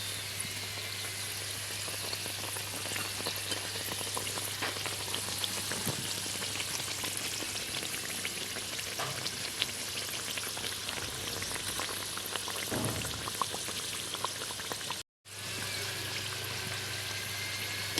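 A Mughlai paratha fries in a pan with a steady, close sizzle that runs almost unbroken, with faint stirring and scraping and one brief dropout near the end.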